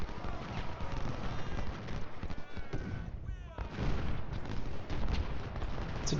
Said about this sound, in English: Artillery should be ready to go in just a second. Let's stop and fire.